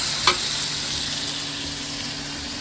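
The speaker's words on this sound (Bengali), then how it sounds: "পেঁয়াজ ভেজে নিচ্ছি, সাথে রসুন, একটা মাছের ভর্তা বানাবো।" Onions and garlic fry in a pan with a steady, even sizzle, plus one brief clink near the start and no talking.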